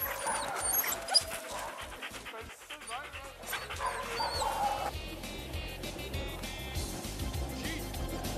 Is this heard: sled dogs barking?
yes